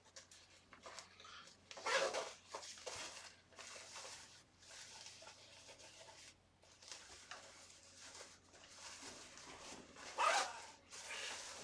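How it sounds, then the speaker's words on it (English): An invisible zipper on a sewn garment with a bias-faced neckline is drawn up in several short, soft scratchy pulls with pauses between, quiet and close, over a faint steady hum. "Let's go ahead and zip up our invisible zipper now."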